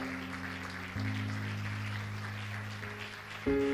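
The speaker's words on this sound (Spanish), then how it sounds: "Dele un aplauso bien fuerte al Señor." Congregation in a church applauds strongly, a continuous clapping wash layered over sustained keyboard or organ chords that shift partway through.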